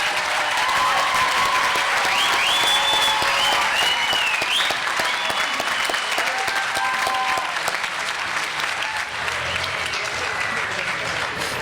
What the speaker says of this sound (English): Can we give a round of applause to all of our graduates?